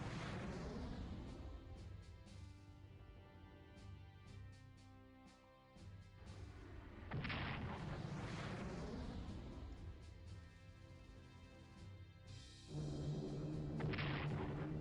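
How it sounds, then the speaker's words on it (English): Artillery bombardment in a WWII strategy video game, with a continuous roll of booming explosions and crashes, loud and dense throughout and rising again in later waves. "We'll see what they will bombard now."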